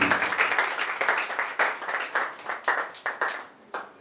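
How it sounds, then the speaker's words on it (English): An audience gives a round of applause at a reality TV show house opening party, dense clapping that breaks into uneven bursts and thins out toward the end, fairly close and lively. "Please round of applause for that man."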